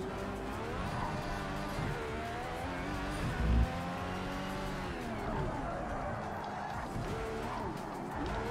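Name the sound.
race car sliding sideways in Project Cars 3 video game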